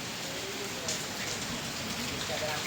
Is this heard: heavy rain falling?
yes